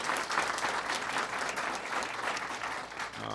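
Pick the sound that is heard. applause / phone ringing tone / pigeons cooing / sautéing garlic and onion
applause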